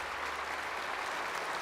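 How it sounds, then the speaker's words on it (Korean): Church congregation applauding during a sermon, a soft, distant wash of many hands clapping steadily throughout, evenly sustained with no talk over it. "우리 시장님도 한번 박수 한번 해드리세요."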